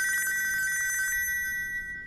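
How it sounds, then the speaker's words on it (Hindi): A telephone bell rings in a rapid trilling burst for about a second, then stops and leaves a fading electronic tone. "अबे तेरा फोन बज रहा है, बहरा हो गया क्या?"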